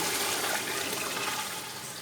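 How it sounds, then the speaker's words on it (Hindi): Water pouring steadily into a cooking pot for chana pulao, a continuous splashing rush that fades slightly toward the end, close by with no voices. "अब इसके अंदर डालते हैं पानी"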